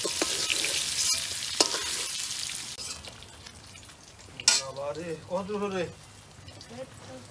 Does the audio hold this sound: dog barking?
no